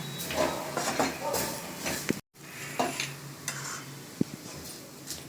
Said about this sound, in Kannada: ಇವಾಗ ಚೆನ್ನಾಗಿ ಮಿಕ್ಸ್ ಮಾಡೋಣ